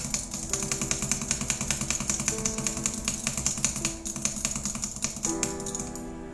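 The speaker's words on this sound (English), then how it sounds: "so for butterfly clicking, so it can double click, obviously." Rapid butterfly clicking on an HK Gaming Mira M mouse: a dense, fast run of sharp plastic clicks close up, briefly pausing near the middle before resuming, with a faint hum underneath.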